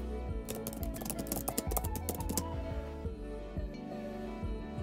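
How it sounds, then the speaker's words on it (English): Rapid tapping on an iPad keyboard while writing a note, a quick burst of close, crisp keystrokes followed by sparser, slower taps. "And we can immediately start typing."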